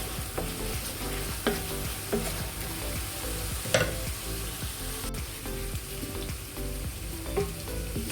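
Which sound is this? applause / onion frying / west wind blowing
onion frying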